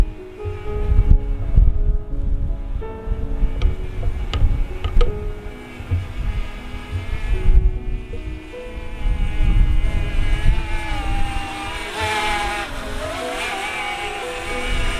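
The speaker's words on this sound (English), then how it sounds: "And I am staring right at the little drone." A small DJI Mavic Mini drone hovers and flies nearby by the Guffey Bridge over the Snake River, its high whining buzz shifting in pitch as it moves, mixed with loud gusty wind rumble and no speech.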